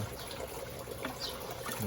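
Water trickles softly and continuously in a backyard crayfish farm tank, a faint, close dribble with small splashes.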